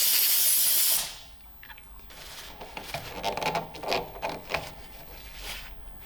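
Brake cleaner sprayed from an aerosol can onto a Nissan Skyline's HICAS steering parts, a loud steady hiss for about a second that cuts off abruptly, then quieter clatter and handling noises follow.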